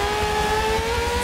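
Formula One car engine in a Forza game at Mugello, a high tonal whine climbing steadily in pitch as it accelerates, loud and continuous for about a second.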